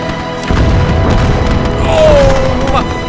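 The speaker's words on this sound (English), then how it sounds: "we got a chain explosion here" Explosions chain together in the Army Men Warfare Remake video game. A loud, dense boom runs through the battle, a sustained roar with repeated thuds and a whistling tone sliding downward near the end.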